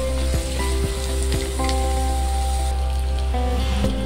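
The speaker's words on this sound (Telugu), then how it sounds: "బాగా ఫ్రై అవ్వాలి." Three salted onions fry in a pan with a bright, steady sizzle, over a constant tonal hum and a few light clicks from stirring.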